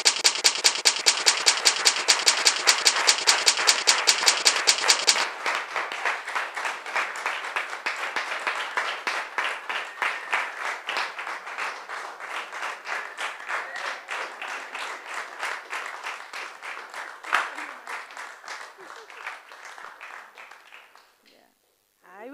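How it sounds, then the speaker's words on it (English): Audience applause after a presentation, picked up close to a microphone: sharp, rhythmic claps at first, then a denser, steadier clatter that gradually fades out. "Clapping into the mic, as you noticed."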